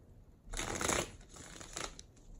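A deck of tarot cards is shuffled by hand, giving a close, crisp riffle that swells and fades, with a second shorter burst of rustling cards soon after.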